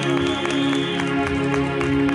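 A crowd at a wedding blessing applauds and cheers in a dense, continuous wash of clapping. Music or voices sustain underneath it at a steady, moderately loud level.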